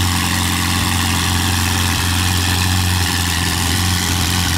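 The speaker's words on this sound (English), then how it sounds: "I don't really know how to describe the noise that car makes because it just dominates everything." A VOS Performance sports car, either a Ferrari 488 GTB or a Lamborghini Huracan Spyder, idles with a loud, deep, steady engine rumble that fills the clip with no pauses or revs.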